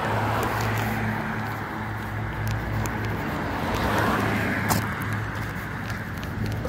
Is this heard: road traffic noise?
yes